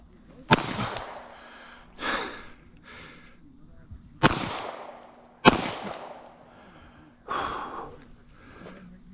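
Pistol shots fired on a hard shooting-match stage: five sharp, loud cracks spaced irregularly a second or more apart, each with a short ringing decay over a quiet background.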